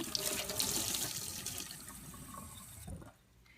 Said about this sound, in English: Very last, I rinse out my oily towels with some soapy hot water before laundering them.